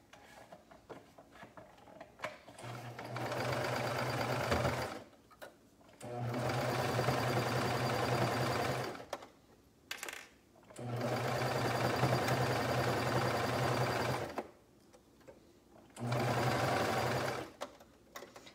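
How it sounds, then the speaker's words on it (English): A double-looper serger-style sewing machine stitches fabric in four loud, steady bursts of rapid mechanical whirring, each a few seconds long, separated by brief quiet pauses. "This machine actually has a double looper, so you can, if you want, have this sort of looper look on both the inside and the outside."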